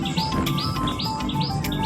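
A large crowd of birds at Nadabet near the Pakistan border chirps nonstop, with rapid overlapping tweets repeating over a constant dense background of calls.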